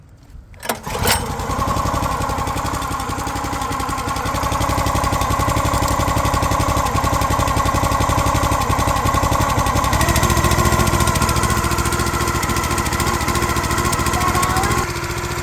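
A small gasoline engine on a log splitter cranks and catches about a second in, then runs loud and steady at a constant idle for the rest of the clip, with no talking.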